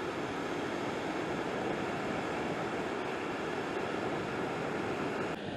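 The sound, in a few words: water roaring over retaining wall, wind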